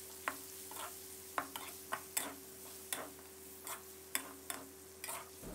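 Pork stir-frying with pounded lemongrass paste, spatula scrapes and taps landing in an irregular rhythm of about a dozen sharp strokes over a faint steady sizzle and a low hum, close by.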